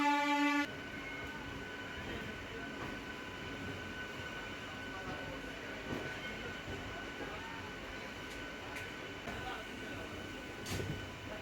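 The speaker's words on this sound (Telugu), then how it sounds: "కాజీపేట రైల్వే స్టేషన్ నుంచి వెళ్తే ట్రైన్ స్టార్ట్ అయింది మళ్ళీ" A MEMU train pulls out of Kazipet railway station on the Secunderabad to Warangal route, a steady rolling rumble of wheels on track with a brief tone at the very start and faint clicks over the carriage noise.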